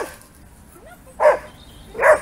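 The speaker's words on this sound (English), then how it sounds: "Even the sound of a dog barking was a problem." A dog barks twice, about a second apart, each bark short and fairly close, with a quiet background between them.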